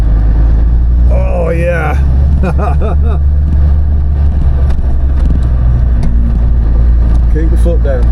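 A car engine drones loud and close as the car climbs a steep hairpin road and changes gear, with heavy wind rumble throughout and voices speaking briefly over it.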